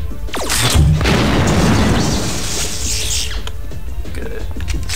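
A frag grenade explosion in System Shock 2, a single loud close boom with a sharp onset that rolls into a dense crackling burst, then fades over a few seconds under low mechanical ambience.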